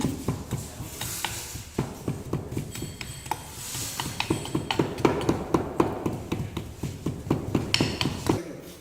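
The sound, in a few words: round hammer ramming moulding sand into a drag box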